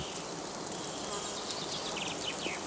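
Honeybees buzz in a steady, busy drone as they fly out in front of heather skeps at a woodland apiary, with faint bird calls in the background.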